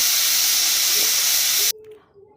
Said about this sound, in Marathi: कुकरला 6 ते 7 शिट्ट्या करून घ्यायच्या आहेत